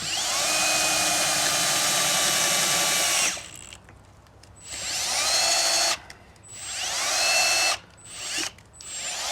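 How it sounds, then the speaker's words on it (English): Power drill with a sharp bit boring through a gas strut mounting hole on a BYD Atto 3, a loud, steady high-pitched whine for several seconds, then repeated shorter bursts of drilling with brief pauses between. "it takes 10 seconds to go through if you've got a sharp drill bit"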